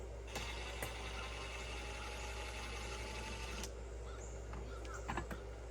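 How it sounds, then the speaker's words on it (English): A lawn tractor mowing hums as a steady engine drone, held at a constant low level in the background, with a few sharp clicks nearby. "You'll probably hear the tractor running around."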